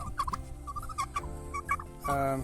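Turkeys gobbling beside their paddling pool, a rapid burst of warbling gobbles with some clucking, close and loud, ending in a longer rattling gobble.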